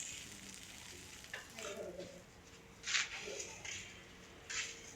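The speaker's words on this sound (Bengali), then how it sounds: "এখানে পটল ভাজি হচ্ছে, পটল ভাজি।" Pointed gourd (potol) fries in a pan with a continuous soft sizzle, rising in brief louder crackling bursts over a low steady hiss.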